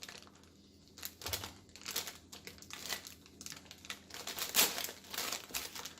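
Felting wool fibers are pulled apart by hand, giving soft, close crinkling and tearing rustles in short uneven bursts.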